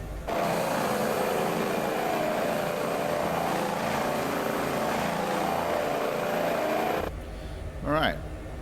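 Airbus H145 helicopter in Microsoft Flight Simulator 2024, a loud steady turbine and rotor drone held for about seven seconds, then cutting off abruptly, leaving a brief warbling tone and quieter hum.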